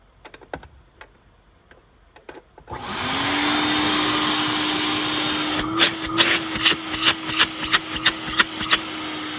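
A vintage Tristar CXL vacuum cleaner switches on after a few taps, ramps up to a steady loud whine and roar, then runs on under a series of sharp clicks or knocks.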